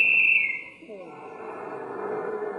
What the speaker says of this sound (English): And then the final whistle blew.